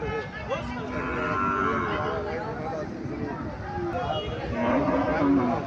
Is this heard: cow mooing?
yes